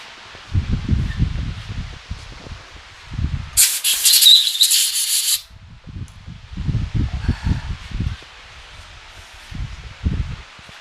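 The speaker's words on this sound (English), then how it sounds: "I'll go blow this out with a air gun." A short, loud burst of compressed air from an air gun blasts out a drilled hole in a workshop, hissing steadily for about two seconds between stretches of low rumbling handling noise.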